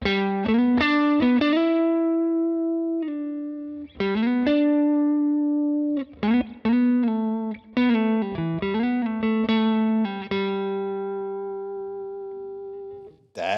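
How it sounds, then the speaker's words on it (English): A melody on a Telecaster electric guitar played through the neck pickup into a Carr Bel Ray amplifier: sustained, ringing notes with slides and pauses, played alone and up close. "Neck pickup on this very cool Telecaster."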